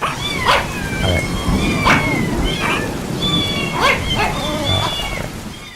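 A sound effect of cats meowing repeatedly mixed with dogs barking, layered over rain and thunder, loud and close with the animal calls overlapping throughout.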